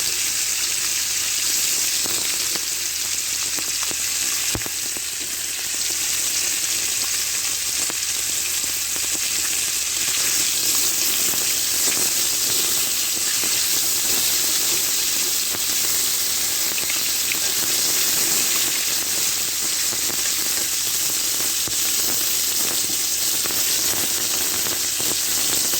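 Pairah fish frying in a pan for a kochu mukhi curry, a steady dense sizzle with bubbling oil running throughout the whole stretch, close and loud, with no voices over it.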